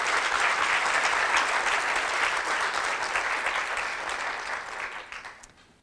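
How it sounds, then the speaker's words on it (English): A conference audience gives Charla a round of applause, sustained dense clapping that holds steady before tapering off and fading at the end. "I think we should give Charla another round of applause"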